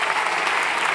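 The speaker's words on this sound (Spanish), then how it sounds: "Dale el aplauso más fuerte al Señor" A church congregation claps loudly in a brief, dense burst of steady applause, with no pause and no voices standing out.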